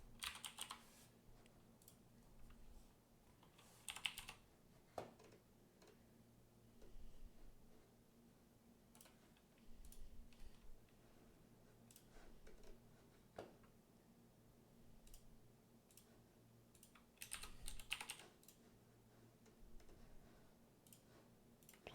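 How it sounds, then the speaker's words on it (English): Quiet typing on a computer keyboard while entering credit card details, soft clicking keystrokes in irregular bursts with pauses between them, faint and close. "Typing in my credit card info."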